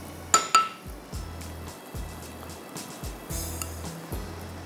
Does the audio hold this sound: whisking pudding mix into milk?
yes